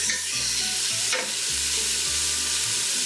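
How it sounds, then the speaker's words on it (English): Chopped yellow onion sizzles loudly and steadily in a hot pan, a continuous bright hiss with occasional stirring scrapes, no voices. "You can hear the sizzle"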